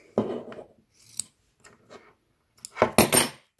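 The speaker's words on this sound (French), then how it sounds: "Là, je vais couper mon fil." Scissors snip through knitting yarn while finishing a pair of cute slippers, giving a few close, crisp metallic cuts with short pauses between them, the loudest snips clustered at the end; no one speaks.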